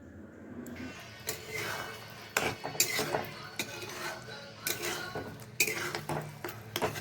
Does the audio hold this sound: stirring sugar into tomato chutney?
yes